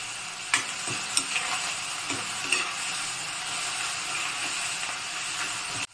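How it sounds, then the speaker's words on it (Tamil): Coriander leaves sizzle and fry in a pan over medium flame for bottle gourd chutney, a steady close hissing sizzle broken by several scraping stirs and soft clinks, with no talking, cutting off abruptly at the end. "இப்போ கொஞ்சமாக மல்லித்தழை வாசனைக்கு, நல்லா மீடியம் ஃப்ளேமில் வச்சு நல்லா வதங்கட்டும்."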